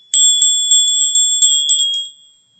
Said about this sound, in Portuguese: Podemos também utilizar uma sineta,